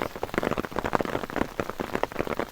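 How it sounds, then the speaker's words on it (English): Dense hail clatters on a hard surface on a road near Cumbres Pass, Colorado, a rapid irregular patter of loud close impacts with no talking. "Every day, this afternoon. Today, hailstorm."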